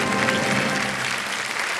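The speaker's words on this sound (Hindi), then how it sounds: "और तालियां बजती रहे इनके लिए।" Studio audience applause on the KBC game show set, a dense steady wash of many hands clapping at full volume that carries on without a break.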